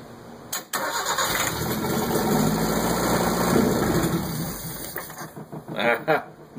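Fiat 1200 fitted with a Toyota 3K engine, hot-wired with the choke partly closed, cranks and catches into a rough, steady run, then revs unevenly in a couple of bursts toward the end; close and loud.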